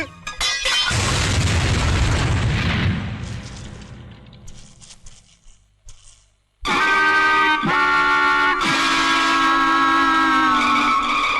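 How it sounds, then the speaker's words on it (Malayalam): A bomb explodes in a Malayalam film scene from Iruvattam Manavatty. A loud, close boom rumbles and slowly dies away to near silence, then loud, sustained music bursts in. "അയ്യോ, ബോംബ്."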